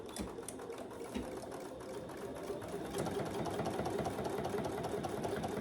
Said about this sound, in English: We're going to sew, just top stitch that top edge.